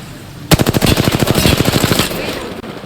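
An automatic weapon fires a rapid, loud, close burst of about twenty evenly spaced shots in the video game Apex Legends, lasting roughly one and a half seconds before cutting off.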